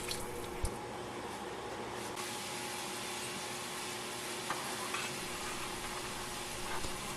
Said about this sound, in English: Pour water and boil.